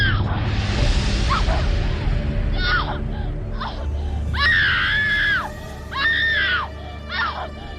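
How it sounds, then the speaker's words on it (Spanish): A woman's drawn-out, piercing screams in a horror story sound effect, several long wails separated by short breaks, loud and close over a low rumbling backdrop. "Estaba casi dormido cuando Rita empezó a gritar."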